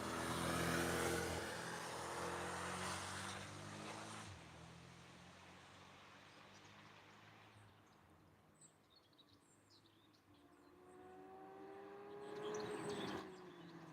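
A Porsche race car sweeps past on a track, its engine note rising loud and close at the start, fading into the distance, then another surge of engine noise returning near the end, with no talk.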